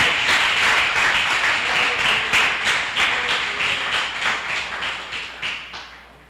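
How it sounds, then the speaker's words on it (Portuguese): A church congregation applauds with dense, continuous clapping that grows more rhythmic and then gradually fades out near the end. "Você pode aplaudir ao Senhor nessa hora?"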